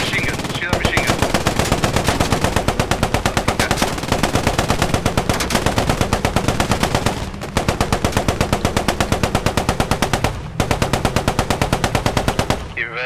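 Long, rapid bursts of machine gun fire from the video game Post Scriptum, in a tank battle with an M3 Stuart and a Panzer III. The bursts are loud and close, broken by a few brief pauses.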